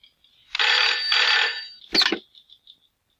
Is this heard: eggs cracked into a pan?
no